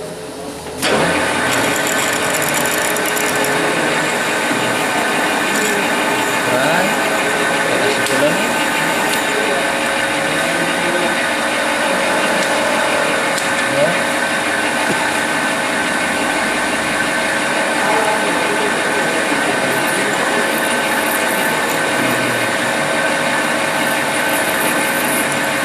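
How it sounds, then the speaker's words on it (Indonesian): A 5 mm bit drills into metal while a hinge pin is being made, giving a loud, steady mechanical whine and grinding that runs without a break from start to finish. "Lakukan proses pengeboran."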